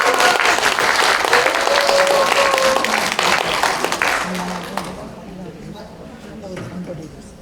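A conference audience at the 9th World Korean Women's Congress in the National Assembly's main conference hall gives loud, dense welcoming applause that fades after about five seconds, leaving a voice speaking over the dying claps.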